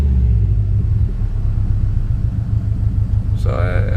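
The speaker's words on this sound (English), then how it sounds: "I'm just gonna rev a little bit." A 2016 Subaru STI engine idles with a deep, steady rumble, and a short rev comes near the end. People talk quietly in the background.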